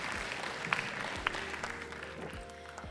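Applause for the panelists at a conference session on renewable energy transition, a steady patter of clapping from a modest audience, fairly distant and soft, with faint murmuring.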